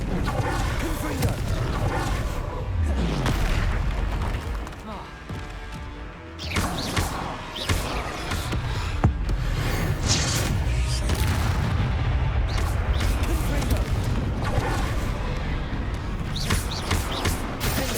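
Confringo fire spell blasts in Hogwarts Legacy, booming thuds and crashes within a dense, loud battle din. The impacts recur throughout, with brief dips in the noise and voices shouting amid the fighting.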